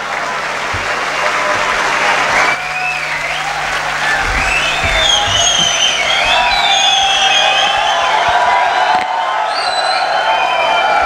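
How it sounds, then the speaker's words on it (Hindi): Sustained, loud applause from a mushaira audience fills the whole stretch, dense clapping with scattered cheers and whoops, steady and close, with no speech over it. "आप सबकी भरपूर तालियों में तशरीफ लाते हैं मुकील बुखारी"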